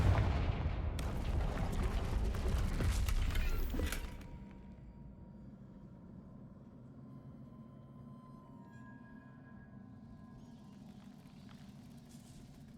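A Confringo spell in the Hogwarts Legacy video game explodes in a loud, crackling burst that rumbles for about three seconds, then gives way to a quiet, low ambient hum.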